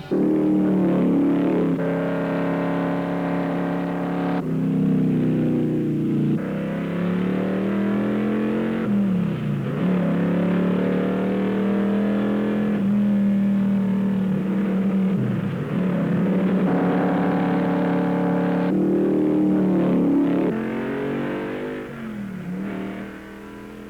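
Late-1960s Ford race cars at speed, engines roaring and revving with rising and falling pitch as they pass, a continuous loud mechanical drone filling the whole stretch without speech.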